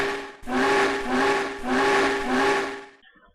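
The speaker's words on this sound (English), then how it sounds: "they heard a whistle that sounded like this." A steam engine whistle blows in two long, loud, steady blasts, starting abruptly and cutting off near the end, with no other sounds around it.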